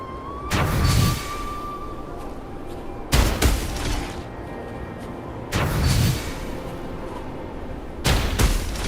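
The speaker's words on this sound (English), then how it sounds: "Perhaps we can create an opening in this disk with an explosion." Explosions blast open a cliff in the video game Wuthering Waves, four loud booming bursts spaced a couple of seconds apart, each with a rumbling tail and no talk over them.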